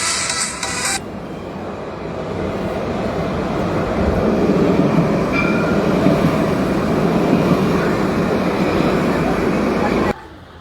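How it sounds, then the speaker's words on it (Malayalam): A train arriving, a loud continuous rumble of rail wheels and carriages that builds and holds close by for several seconds before cutting off, with no clear talk over it. "അടുത്ത ട്രെയിൻ വരുന്നുണ്ട്."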